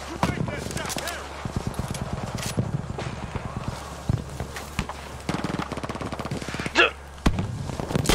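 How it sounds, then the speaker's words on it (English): Ross Rifle shots in Battlefield V, a run of sharp tapped gunshots and battle noise with someone talking over the firing. "I'm trying to fucking tap fire this guy"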